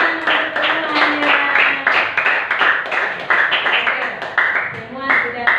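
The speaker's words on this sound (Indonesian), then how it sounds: "tepuk tangan semuanya" Schoolchildren in a classroom clap together for group 1, a steady run of close, fairly loud claps with voices mixed in among the clapping.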